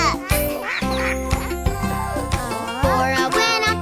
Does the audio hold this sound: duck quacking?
yes